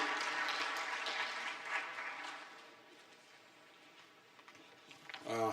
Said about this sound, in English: Once again, a round of applause for Dr.